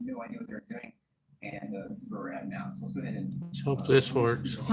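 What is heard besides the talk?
No everyday noises stand out.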